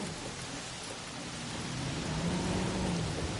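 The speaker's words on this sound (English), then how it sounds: "Oh, right, it's raining." Steady heavy rain fills a Jurassic World Evolution game scene, a dense continuous hiss with a faint low rumble like distant thunder rising toward the end.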